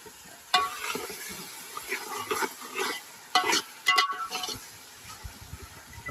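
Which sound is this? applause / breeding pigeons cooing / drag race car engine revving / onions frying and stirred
onions frying and stirred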